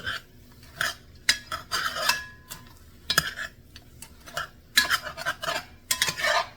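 A spoon scrapes and clinks against a pot while crawfish stew with roux, onions, mushrooms and Cajun seasoning is stirred, making irregular close knocks and scrapes with short gaps.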